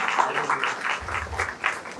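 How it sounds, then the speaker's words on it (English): An audience at an HPV vaccination drive at a dental college claps in a steady, moderately loud round of applause that fills the hall throughout, with no voices over it. "I request everyone to give a very loud round of applause."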